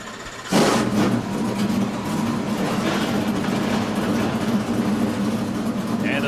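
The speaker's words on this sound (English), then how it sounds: "Drivers, start your engine." At a NASCAR Pinty's Series road race in Trois-Rivières, a field of stock car engines fires up together at once, a sudden loud roar that holds as a steady, rumbling drone.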